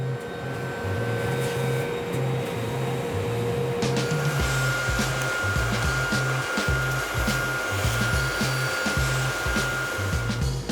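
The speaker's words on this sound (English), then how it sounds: "the scissor arms are laser cut out of stainless steel" A laser cutter cuts stainless steel scissor arms for a woodworking clamp, giving a loud, steady machine whir over a rhythmic, pulsing low hum that continues throughout.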